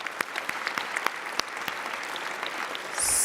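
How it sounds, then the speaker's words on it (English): A luncheon crowd at the Toronto Arts Foundation's Mayor's Arts Lunch applauds steadily with dense, moderately close clapping, and a few sharper individual claps stand out. "Let's give everyone a round of applause."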